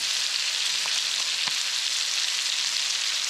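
Rabbit frying in butter in a pan indoors gives a steady, dense sizzle that fills the whole span at an even level, with a few faint ticks and pops rising through it.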